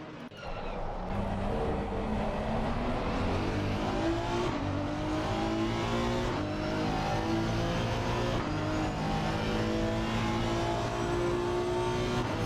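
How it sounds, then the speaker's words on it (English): Honda race car engine in Assetto Corsa Competizione at Spa-Francorchamps, a loud sustained high-revving roar with rising and shifting tones through gear changes, continuous and close for the whole stretch. "Very different sound the Honda makes"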